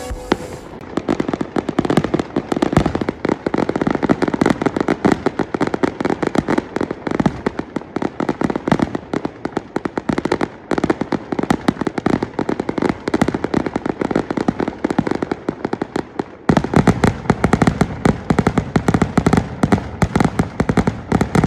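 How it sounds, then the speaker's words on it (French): Big firecrackers burst in a fireworks finale at a Portuguese festival, a dense, relentless barrage of sharp loud cracks that pauses briefly near the end before resuming even harder. "un gros pétard, plein de gros pétards où on va exploser dans le blanc"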